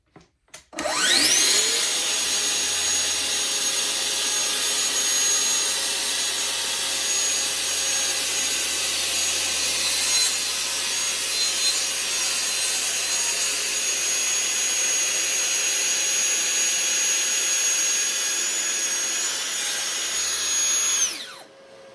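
Steady, loud power-saw cutting of a wooden board for a modern shoe rack, running continuously for about twenty seconds with a high whine throughout, starting and stopping abruptly, no talking.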